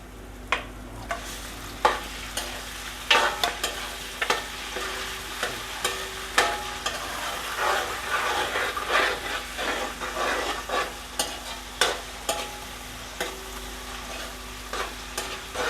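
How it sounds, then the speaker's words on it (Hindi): Chicken pieces frying in a pan with light-browned onions, a continuous sizzle broken by repeated sharp spatula scrapes and knocks against the pan at an uneven rhythm. "अब हम इसमें चिकन डालेंगे। इसमें चिकन डालने लगे हैं।"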